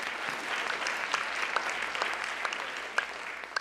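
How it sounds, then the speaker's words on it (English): Applause from diners at the White House Correspondents' Dinner, a sustained patter of many hands clapping at a distance, with a few sharper individual claps standing out. "Give him a round of applause."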